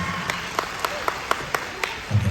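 Stage show audience clapping for Mammootty fans at a Suraj Venjaramoodu performance, heard as a run of sharp, evenly spaced single claps over a low hum, with a low thump near the end.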